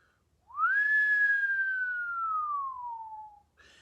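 A person lets out a single long, low whistle that rises briefly, then glides slowly downward in one smooth, clear tone, heard alone in a quiet space.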